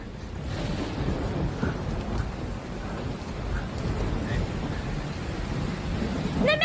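Rain falls steadily with rolling thunder rumbling low beneath it, a continuous stormy wash of sound with no talking.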